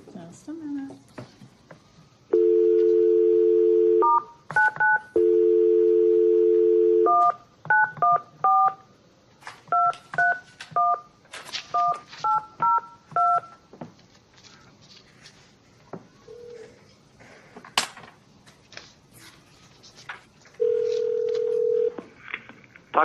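Telephone dialing on a speakerphone at a forensic science commission meeting: steady dial tone bursts, then a quick series of touch-tone beeps, with a final tone later, close and clear amid light room shuffling.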